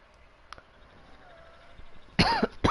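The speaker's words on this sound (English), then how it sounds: "Cough sound effect." Loud close coughs burst out near the end, a quick pair after a mostly quiet stretch with one small click earlier.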